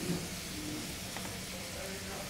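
Chicken frying in a pan with a little chilli powder for a street-style kati roll, a soft, steady sizzle with light stirring scrapes, quiet and close.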